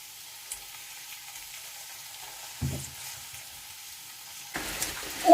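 Coarsely chopped tomatoes drop into a pot of hot oil with saffron, giving a soft steady sizzle, then a brief louder splash and stir as they land, and a rougher burst of frying near the end.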